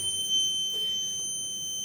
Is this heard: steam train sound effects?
no